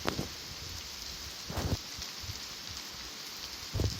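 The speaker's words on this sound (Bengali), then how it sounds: "ওই যে আমাদের সৌরভ, ওর মুখ থেকে যেমনই বেরোলো যে বৃষ্টি নামছে, অমনি বৃষ্টি চলে এলো।" Rain falling in a cartoon story scene, a steady broadband hiss with a few louder gusty bursts near the start, middle and end, and no voices.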